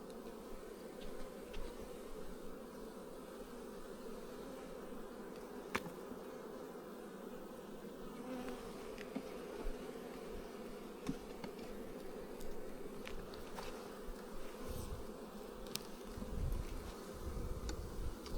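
Honey bees hum in a steady, dense drone from an opened hive in remote New Zealand bush while it is wintered down with apivar strips, with occasional soft knocks and clicks of handling but no talk.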